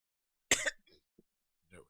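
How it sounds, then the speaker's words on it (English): A short, harsh throat clearing bursts out close and loud, followed by a couple of faint murmurs and a softer second rasp, from someone with a raspy voice. "I had to clear my throat."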